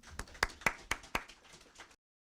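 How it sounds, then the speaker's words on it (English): A handful of separate, sharp claps ring out in a quiet room at an African heritage foundation gathering, a short irregular run of about half a dozen that fades and then stops. "let's give him a round of applause"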